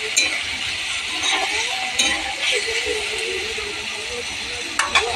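Potato pieces and sliced ridge gourd fry in a pan with turmeric, chilli powder, salt and sugar, giving a soft continuous sizzle under occasional metal spoon clinks and stirring scrapes at close range.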